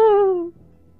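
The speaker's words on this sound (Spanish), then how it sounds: "Toca el gato de la bomba." A single cartoonish meow from a cat in the video game Ice Cream 2, clear and close, gliding slightly downward over half a second before fading into quiet.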